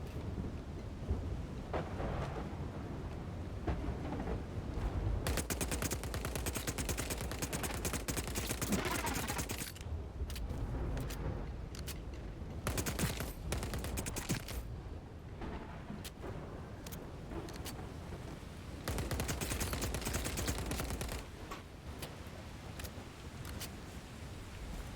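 A hostile turret fires at the player in a video game: long stretches of rapid, loud, crackling gunfire bursts, broken by brief gaps, over steady rumbling battle noise.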